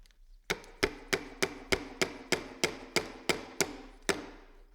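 A seal driver repeatedly hammers a fork seal into an Öhlins motorcycle front fork, making about a dozen sharp, evenly spaced knocks at close range with a short ring after each.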